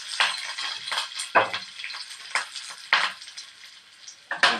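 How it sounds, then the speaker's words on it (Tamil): Mustard seeds and curry leaves crackling in hot oil, a close, fairly quiet sizzle broken by sharp popping bursts at irregular intervals. "கடுக்காய் கருவேப்பிலை போட்டுக்கலாம்."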